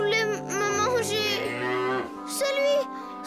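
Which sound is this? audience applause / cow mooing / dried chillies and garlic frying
cow mooing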